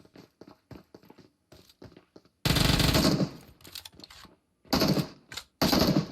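Uzi submachine gun in PUBG Mobile fires in loud, sustained automatic bursts, one long volley followed by two shorter ones, with quieter clicks and footsteps between them.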